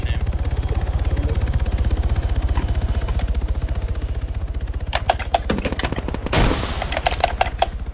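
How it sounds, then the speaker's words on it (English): Gunfire in the video game ArmA 3: a continuous rapid burst of automatic fire, then louder, sharper single shots and short volleys, close and loud throughout. "He just shot me through the window."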